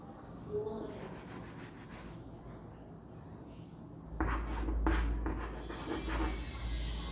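A marker or chalk scratches across a board during a history lesson on the 1857 revolt, a soft continuous rubbing of short strokes that grows louder and rougher toward the end, with no talking.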